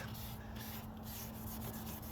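Hazy plastic car headlights being restored are sprayed with a spray bottle, giving a few short hissing bursts over a steady background hum.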